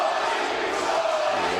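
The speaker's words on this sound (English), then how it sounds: "Everybody's cheering Seanie right now." Boxing arena crowd cheering for hometown favorite Seanie Monaghan, a dense, steady roar of many voices with shouts rising above it, loud and unbroken.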